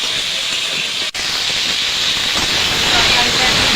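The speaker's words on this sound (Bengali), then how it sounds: "আমি এটা একটু ভেজে নেব।" Taro curry with fish and green chili fries in hot oil, giving a loud, continuous hissing sizzle close up with a momentary dip early on.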